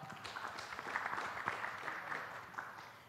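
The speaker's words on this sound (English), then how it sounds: "A round of applause for her." Faint, scattered clapping from a panel audience at a housing expo, distant and thin, a brief patter of applause.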